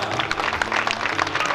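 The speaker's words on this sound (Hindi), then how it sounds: "एक बार जोरदार तालियां" Audience applause for the performers after a theatre presentation at a Jain religious festival in Damoh, a steady wash of many hands clapping at moderate distance, continuous and even throughout, with no talk.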